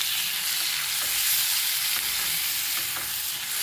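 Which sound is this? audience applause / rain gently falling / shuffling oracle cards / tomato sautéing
tomato sautéing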